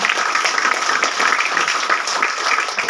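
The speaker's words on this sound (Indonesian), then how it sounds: "Tepuk tangan untuk Tuhan Yesus." Congregation clapping during a church service, a dense steady wash of many hands sustained throughout, with some voices mixed in underneath.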